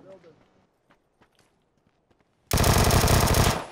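Loud, sustained automatic gunfire from the video game PUBG: Battlegrounds bursts in after a quiet stretch of faint scattered taps and a short voice, a dense, continuous volley lasting over a second before cutting off.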